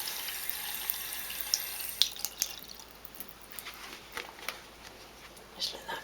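Water dripping and trickling off freshly rinsed printed fabric, close, with irregular small patters over a faint background hiss.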